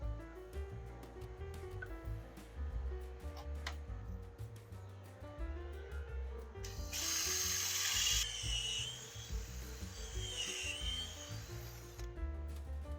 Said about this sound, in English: So when I'm drilling, I drill all the way down to this point